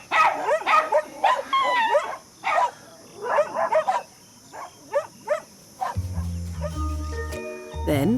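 Several dogs bark and yip in short, sharp bursts at a monkey, with whimpers between barks, fairly close and loud, ending with a lower sustained tone.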